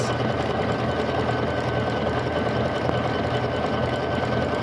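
A Bernina sewing machine stitching a zipper bag, a steady and fairly loud mechanical whir with a fast needle rhythm that runs without a break, heard up close.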